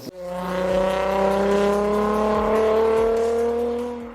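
A V6 car engine revs steadily and loudly, its pitch climbing smoothly over about four seconds with a rich, harmonic growl, close and continuous.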